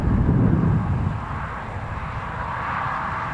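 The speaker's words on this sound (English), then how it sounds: "Yeah, that is the Loganair. Yep, looks like one of that Embraer jets." A Loganair Embraer jet roars far in the distance near an airport, a broad, steady, faint rumble that eases slightly as it goes on, with light wind noise and no talking.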